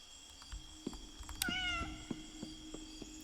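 A cat meows once in the video game Indigo Park: a clear, rising-then-falling mew over quiet ambient game sound with soft ticks.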